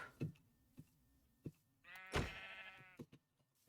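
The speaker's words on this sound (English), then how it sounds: "there's a sheep" A single clear sheep bleat rings out alone, with a few soft clicks and taps before and after.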